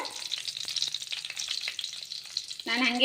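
Brinjal pieces fry in hot oil for a North Karnataka meal, a steady close crackling sizzle with faint stirring scrapes, and a voice speaks briefly near the end.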